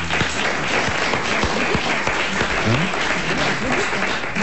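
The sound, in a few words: studio audience applause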